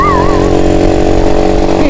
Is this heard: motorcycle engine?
yes